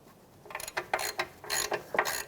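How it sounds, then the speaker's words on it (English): A wrench cracks loose a 22mm nut on the steering rack of a 2007-2013 Acura MDX, giving a run of sharp ratcheting clicks in irregular bursts, close and fairly loud, with no talking. "We're going to loosen up this nut here, which is going to be a 22mm. We're just going to crack it loose"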